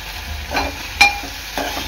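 Okra cooking uncovered in a pan for Marathi bhendi bhaji, with a steady soft sizzle of frying and a few brief stirring scrapes of a spoon against the pan, close and without talk.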